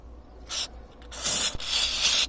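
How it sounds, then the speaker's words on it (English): Grease sprayed from an aerosol can on a narrowboat on the Grand Union Canal, several short hissing bursts followed by a longer steady spray, close and fairly loud, with no talking. "Spray, just to spray at the back there."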